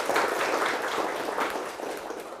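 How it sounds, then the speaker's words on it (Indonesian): Students in a classroom give a short, faint round of clapping that thins out gradually over a couple of seconds, with no speech over it. "Oke, tepuk tangan buat Shirley"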